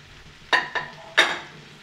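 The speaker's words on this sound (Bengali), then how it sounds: "এগুলো দেওয়ার পরে ভালোভাবে আমি কিন্তু ভাজবো চিকেনের সঙ্গে সবজিগুলোকে" Chicken frying in a pan with papaya, carrot and potato for a stew: three quick, close scraping stirs of a spoon through the pieces over a faint, low sizzle.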